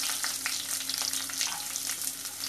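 Chopped garlic fries in hot oil for lemon pickle, giving a close, dense sizzle with steady crackling and no voices.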